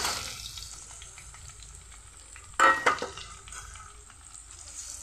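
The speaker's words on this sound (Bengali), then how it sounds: "রসুন আর পেঁয়াজটা ভাজার সময় উনানের আঁচটা একদম কমিয়ে দেবে কমিয়ে আস্তে আস্তে ভেজে নেবে" Garlic and chopped onion fry in a pan over low heat, giving a steady close sizzle with stirring, and a sharper, louder burst of hissing partway through before it settles back to an even crackle.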